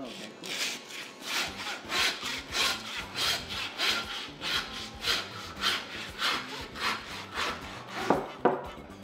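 A hand saw cuts through a pig's shoulder bone during butchering, with rhythmic rasping back-and-forth strokes about twice a second, close and clear, followed by a couple of sharp knocks at the end.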